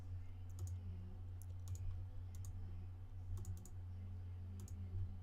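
Clicking on a computer while customizing a game character, heard as sparse sharp clicks in small clusters over a steady low hum, fairly quiet and with no talk.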